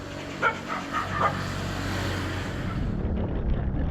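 A few short dog barks sound in quick succession at a moderate distance near Auroville, over a steady engine hum that continues after the barking stops.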